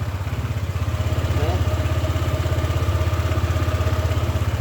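A Honda ADV 160 scooter engine idles close by with a steady, fast low pulsing throb and light mechanical clatter, running evenly throughout without talk over it.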